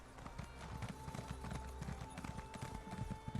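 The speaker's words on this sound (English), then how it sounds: "he got the special crown gem horse" Hooves of a special crown gem horse clop in The Elder Scrolls Online, a quick, steady run of hoofbeats trotting along at moderate volume with faint game ambience beneath.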